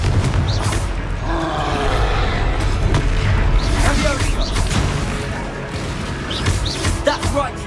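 A Confringo fire spell bursts during Hogwarts Legacy combat, a loud booming blast amid a dense, continuous roar of battle effects and whooshes, with grunting voices mixed in.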